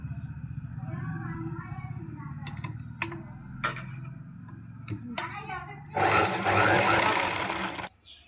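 A sewing machine stitches the collar of a school uniform, a steady whirring run of about two seconds near the end that follows a stretch of talking with light handling noises.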